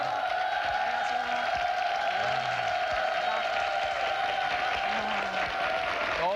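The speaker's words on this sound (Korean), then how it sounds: "박수소리가 많이 커졌습니다." A studio audience applauds in steady, even clapping for several seconds, with a faint tonal hum running beneath it.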